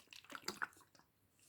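Water poured from a spout bottle onto an African violet inside a glass bubble terrarium, giving a brief, quiet run of splashing and dripping with a few soft, close plops.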